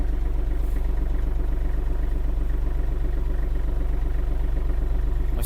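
A Kubota GL-300 mini tractor engine idles steadily while warming up, a close, even low rumble with a faint repetitive clatter running without a break and no talk over it.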